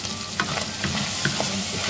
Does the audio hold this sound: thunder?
no